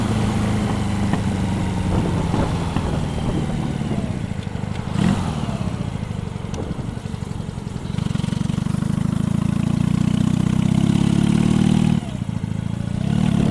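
A motorcycle idles in a parking lot, a steady loud low rumble that swells into a heavier, rougher throb midway, with brief clattering bursts between.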